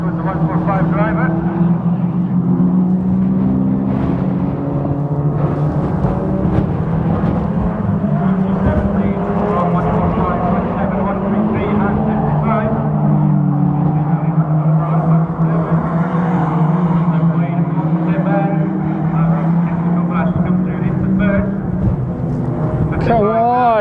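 Stock cars race around Crimond Raceway in Scotland, their engines droning and rising and falling continuously as the cars pass, while a commentator talks over the noise.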